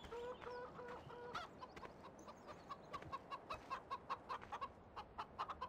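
In the Farming Simulator video game, a flock of about 150 chickens keeps up quiet, repeated clucking. Short rhythmic clucks come in a steady run, with a few drawn-out calls near the start.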